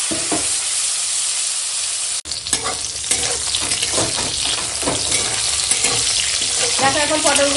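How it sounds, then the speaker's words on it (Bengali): Slices of pointed gourd coated in turmeric and salt fry loudly in a pan, a steady dense sizzle broken by repeated scraping and stirring knocks, starting after a brief pause near the beginning and continuing throughout without talk. "দিয়ে এখন পটলের ভাজা করে নেবো"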